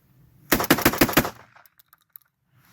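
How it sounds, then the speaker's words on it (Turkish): A Gökkurt rifle fires a rapid series of five loud, close shots in quick succession outdoors, followed by brief faint echoes and a few small mechanical clicks. "Şimdi bir seri atış yapacağım."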